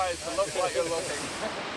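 Steam locomotive F 163 in the Manawatu Gorge gives a short burst of breathy, fluttering steam hiss that fades out over about two seconds, heard alone.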